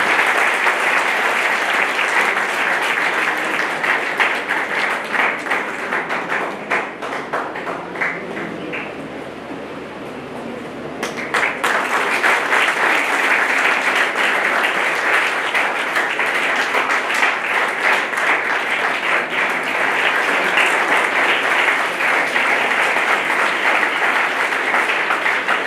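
Sustained audience applause at a startup awareness program in Aurangabad, Bihar, loud and dense from a hall full of clapping hands, dipping briefly near the middle before resuming at full strength.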